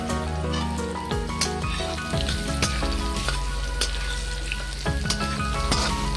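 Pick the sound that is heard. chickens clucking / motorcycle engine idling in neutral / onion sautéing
onion sautéing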